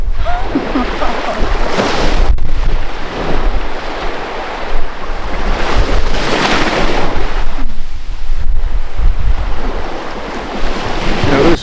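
Small waves wash onto a Gulf of Mexico beach at Destin, Florida, in rolling surges under heavy wind buffeting the microphone, loud and close.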